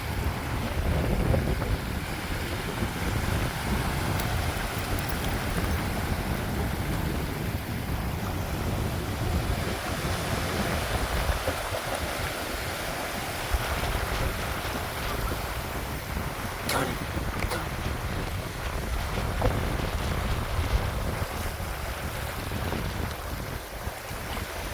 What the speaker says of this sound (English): Getting a bit windy now, I don't know if you can hear me that well.